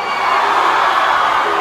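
A large concert crowd at a show at Wet n Wild screams and cheers in a dense, loud, continuous roar with no break.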